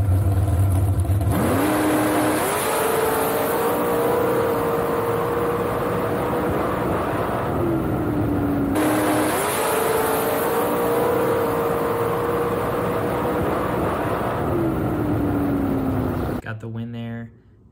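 A drag racing car races a dragster: engines rev and accelerate hard in two long rising runs, loud and close, with a brief break between them before the sound cuts off.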